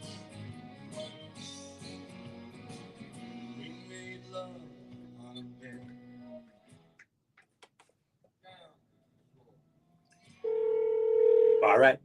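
A telephone call is dialed live at a radio station: talk and background sound fade to near silence with faint clicks, then a loud, steady ringing tone cuts in near the end.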